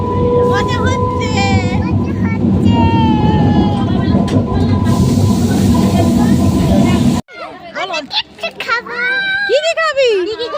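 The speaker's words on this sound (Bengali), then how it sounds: "ট্রেন চলে গেল," A train rumbles past close by in a loud, continuous roar that cuts off abruptly, followed by children's voices and adult talk.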